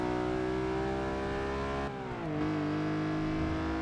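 Race car engine in Forza Motorsport 6 revving steadily with dense harmonic whine, dipping briefly as it shifts down through the gears before climbing again, loud and continuous with no talk.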